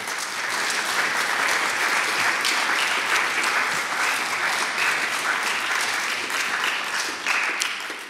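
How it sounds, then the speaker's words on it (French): Sustained audience applause at the Royaumont-Madrid Entretiens, a Franco-Spanish gathering. The clapping is dense and steady from start to finish and fades only slightly at the very end. "Je voudrais simplement qu'on puisse le saluer et l'applaudir et le remercier."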